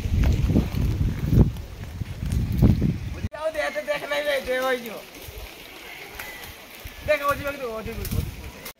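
Rain comes down steadily on a roof, a dense continuous patter with heavier drumming at first, while people talk over it for much of the time.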